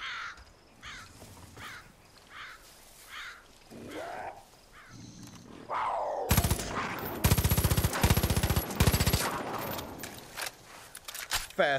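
Rapid gunfire bursts from Far Cry 5 rip loudly through the second half, dense and sustained, after crow-like caws and quieter talk in the opening seconds.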